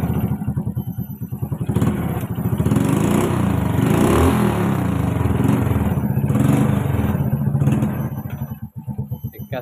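An old, heavily smoking motorcycle with an ignition problem revs loudly and close in a steady throbbing roar, then the revs drop sharply near the end.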